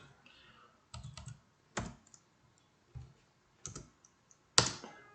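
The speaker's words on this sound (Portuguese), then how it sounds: "Deixa eu ver se dá para digitar aqui direto." Computer keyboard typed in short separated bursts of keystrokes, spaced clicks with pauses between, fairly close and moderately loud, with no speech.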